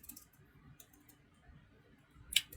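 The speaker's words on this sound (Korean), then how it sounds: "타이핑이 참 안되네요." A computer keyboard is typed on in a few sparse, light clicks close by, ending in one sharper, louder keystroke.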